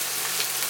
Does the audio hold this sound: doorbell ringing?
no